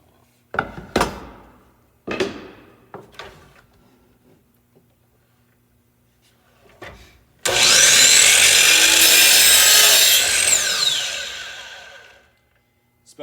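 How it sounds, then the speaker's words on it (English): A few scattered wooden knocks and handling clatters precede a power saw slicing the end off a wooden piece in one loud, sustained crosscut lasting several seconds, then the blade winds down into quiet. "so we need to cut that end off."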